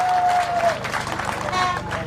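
An audience claps in a crowd for Mama Janet Kataha Museveni at a Ugandan government event, the applause steady and fairly loud throughout, with a faint tone and crowd noise mixed in.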